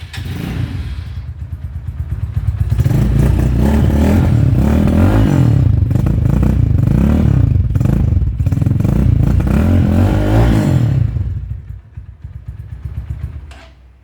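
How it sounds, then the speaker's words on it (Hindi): A 2021-model 250cc Kawasaki Ninja replica motorcycle engine starts up and is revved repeatedly, rising and falling in loud, close bursts before dropping back to idle near the end, with no talking. "अभी हम बाइक को स्टार्ट करेंगे, चेक करेंगे इसके साउंड को"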